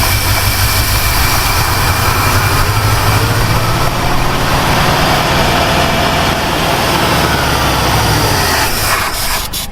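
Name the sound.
1960 Ford Falcon Ranchero engine revving with throttle feathered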